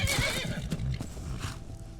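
A horse neighs in Skyrim Special Edition, a close whinny at the start followed by a few softer hoof clops, with no talking.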